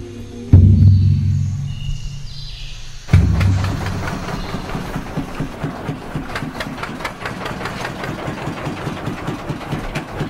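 A small old riverboat engine sets off from Barcelos on an Amazon expedition: a loud, low rumble starts abruptly, cuts and restarts, then settles into a steady, rhythmic chugging with close mechanical knocking.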